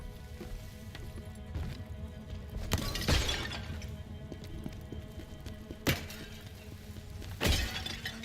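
Clay jars smashing in a video game, three breaking crashes spread across the clip over a steady low game ambience, each burst brief and moderately loud.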